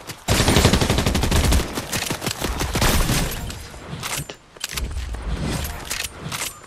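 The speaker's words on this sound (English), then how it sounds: "There's so many shots over here." Rapid gunfire in the Fortnite video game, dense bursts of loud, close shots crackling in quick succession with brief gaps between volleys.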